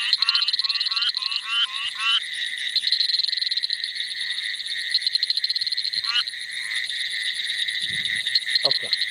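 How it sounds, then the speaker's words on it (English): A reddish burrowing frog calls in a dense chorus, rapid pulsed trills and chirps repeating steadily over a constant high insect-like drone, fairly close and loud, with a faint voice near the end. "This is called reddish burrowing frog."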